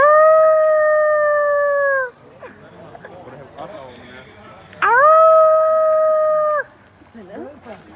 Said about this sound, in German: Leute, da vorne liegt ein Wolf.